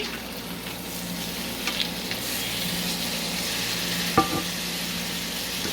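Food sizzling steadily in a frying pan, seasoned with a hint of liquid smoke, with a soft scrape and clink around the middle as the pieces are flipped; a continuous close-up fry throughout with no talking.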